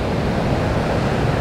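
Ocean surf at Pipeline, a dense, constant roar of breaking waves and churning water, loud and close with no distinct individual crashes in the short stretch.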